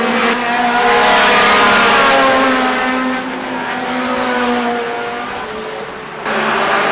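Race cars thunder around the oval at Kalamazoo Speedway, a loud, close engine roar with a strong droning pitch that eases briefly and then surges back as the pack passes.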